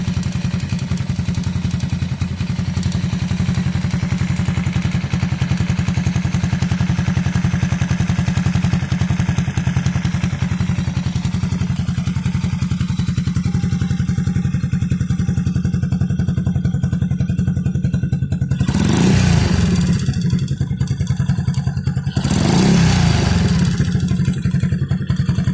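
A 100–125cc motorcycle engine idles with a steady low drone and a marble-like internal rattle from worn piston clearance, joined near the end by two loud bursts of clatter.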